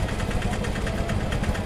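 A motorbike engine idles nearby with a steady, close, throbbing putter that carries on without a break, and no one speaks.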